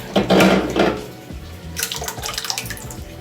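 Liquid splashes and pours into a pot on a stove in two short bursts, loud and close, followed by softer trickling and clinking.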